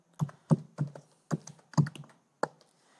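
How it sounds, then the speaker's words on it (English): Someone types a helm install command on a computer keyboard: about six separate, crisp key presses in an uneven rhythm, close by, with no talking. "Let's type the command helm install"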